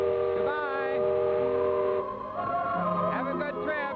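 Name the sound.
steam whistle of departing riverboat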